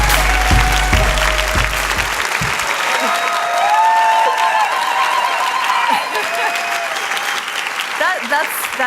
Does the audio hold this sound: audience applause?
yes